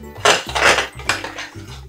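Tzatziki being stirred together with olive oil in a bowl, loud close scraping and clinking of a utensil against the dish in a few uneven strokes, with no voices.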